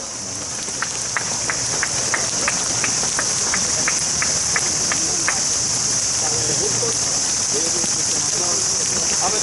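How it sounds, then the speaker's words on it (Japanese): Rain falls steadily outdoors at a gathering near the great torii gate of Yasukuni Shrine, a dense continuous patter with a bright high hiss and faint rhythmic clicks, the whole wash loud and unbroken. "更新してる時には雨はほとんど上がってたんですよ。 そしてここに来てもう解散が近づくとまた降り出した。"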